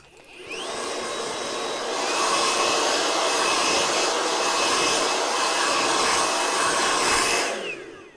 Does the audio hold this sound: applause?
no